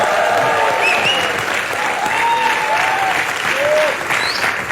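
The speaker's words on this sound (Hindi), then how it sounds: "जोरदार तालियां" Loud audience applause at a cricket event, a dense, sustained roar of clapping throughout with a few voices and whistles rising above it.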